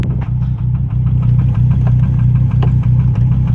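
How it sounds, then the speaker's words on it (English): A Volvo engine idles with a steady, loud rhythmic knocking after losing oil pressure, the metallic taps repeating evenly over a low mechanical hum, close up and with no talk. "The oil light came on once the engine started knocking."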